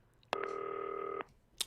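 A single steady two-tone telephone beep, close and clear, holding for just under a second before cutting off, with soft clicks around it.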